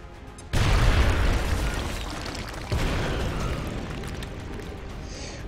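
A grenade blast in the tactical video game XCOM: a loud, sudden boom bursts in early, rumbles and decays, then a second softer impact follows a couple of seconds later, with no voices over it.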